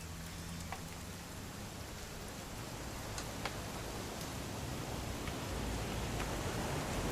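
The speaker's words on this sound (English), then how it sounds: "It's gonna rain the whole weekend, isn't it?" Steady rain in the video game What Remains of Edith Finch, a soft, even hiss of falling water with occasional faint drip ticks, continuous and fairly quiet throughout.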